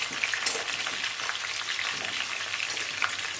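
Potatoes frying in oil for a thin mutton curry, crackling with a dense, steady sizzle while they are turned over in the pan at close range, with no voices.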